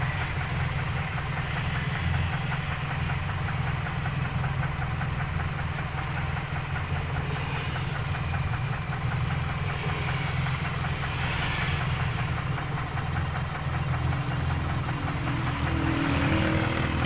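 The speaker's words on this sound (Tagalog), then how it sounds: "Silipin lang natin yung kanyang makina habang umaandar." A Toyota 3A-U engine in an owner-type jeep idles steadily and close by, a continuous low rumble with a faint knocking texture that holds unchanged throughout, with no talking.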